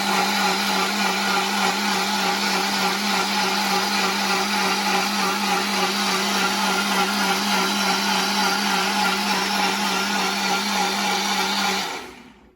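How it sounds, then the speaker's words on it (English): Blender whirring through a smoothie, loud and steady for about twelve seconds before spinning down at the end. "Let me get to blending,"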